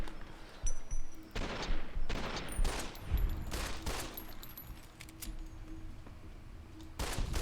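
Repeated gunfire bursts from a firefight in Fallout: New Vegas, loud sharp shots in irregular clusters over a steady game ambience, with no talking.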